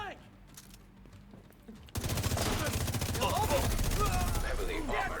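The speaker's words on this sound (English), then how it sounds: "Who are you and why are you shooting?" Video game gunfire erupts suddenly after a quieter stretch of faint ambient sounds, becoming a loud, rapid automatic burst of shots that continues steadily to the end.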